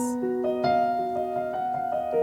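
A gentle piano melody, a cover of a death metal song, of sustained notes played one after another at a slow, steady pace, close and clear.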